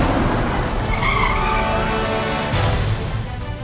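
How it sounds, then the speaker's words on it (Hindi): A car rushes in with a long screech of skidding tyres, loud and close, the squeal sliding over engine noise before easing off. "कोई गाड़ी आई?"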